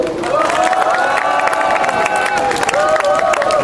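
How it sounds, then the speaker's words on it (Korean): A crowd at an outdoor student protest rally outside a political party's office cheers loudly and continuously, with shouts and applause blending into one sustained roar. "큰 박수 부탁드리겠습니다"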